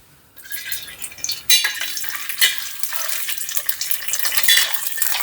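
Grated coconut sizzles in hot ghee as payasam is cooked for Onam, a crackling hiss that starts abruptly, then continues with stirring and pan scrapes close by.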